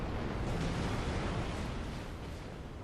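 A torpedo blast from a Furataka cruiser in World of Warships during a Fuso battleship match, heard as a loud, sustained roaring rumble that slowly fades, with no talking.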